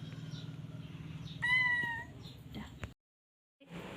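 A cat gives a single clear, drawn-out meow over a low steady hum and faint background noise, followed by a brief silence.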